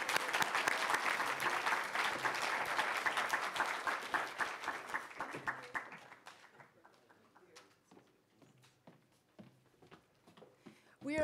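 Audience applause at a university speak-out event at UC Berkeley, loud dense clapping for about six seconds that then thins into scattered claps and fades, with a brief burst at the very end.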